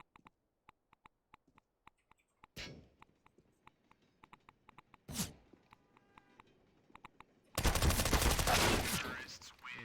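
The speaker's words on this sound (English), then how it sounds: "Throwing flashbang." CS:GO match sounds: a flashbang bursts with sharp bright blasts, amid rapid clicking footsteps and gunfire-like cracks, ending in a long loud roaring burst.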